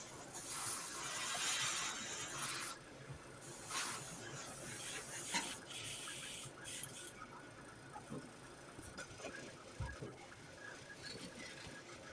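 An airbrush sprays paint with a soft, quiet hiss in on-and-off bursts during a miniature painting session.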